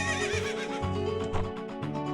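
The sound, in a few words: Epona the horse neighing in Zelda Ocarina of Time, video game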